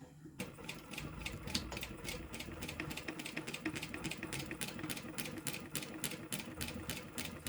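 A sewing machine back stitches a seam on a bag. Its needle ticks in a quick, even rhythm over a low motor whir. The sound is fairly quiet and close, with no voices.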